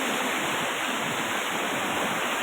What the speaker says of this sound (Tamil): இந்த தரப்பாளத்திலிருந்து ஒரு 3 அடி 4 அடி மேலேயே தண்ணி போய்கிட்டு இருக்கு.